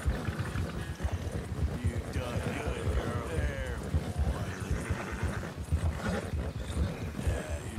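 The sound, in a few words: hooves of Arabian, Buell and Mustang horses racing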